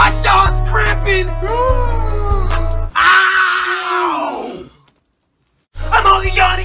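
Voiced animated anime characters yawn in a loud, drawn-out, groaning way. One long yawn follows another, then a brief silence, and another voice starts.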